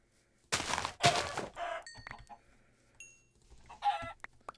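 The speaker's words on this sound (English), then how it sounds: "At least I'm in the middle of a chicken spawning zone over here." Video-game chickens cluck and squawk in several loud bursts, close by, with short pauses and faint tonal game sounds between the calls.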